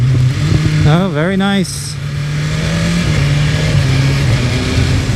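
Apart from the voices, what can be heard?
BMW S1000RR motorcycle engine revving with auto-blipper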